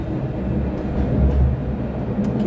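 A VLT light rail tram rumbling past in downtown Rio near Cinelândia, a loud low steady roll close by with no voices.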